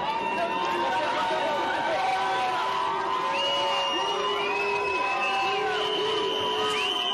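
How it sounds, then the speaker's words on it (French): A crowd jeers and whistles at President Emmanuel Macron during his visit to Saint-Dié, a steady roar of booing voices with shrill whistles rising over it throughout. "les huées et les sifflets se sont fait beaucoup plus forts"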